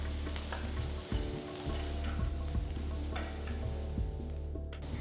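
A spoon stirs and scrapes through sizzling onions with chopped curry leaves, coriander, salt and hing in a hot pan, steady frying hiss with a few scraping strokes, close and alone.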